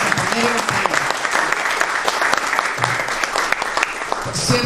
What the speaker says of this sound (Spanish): Así que un aplauso y un reconocimiento a nuestros compañeros y compañeras.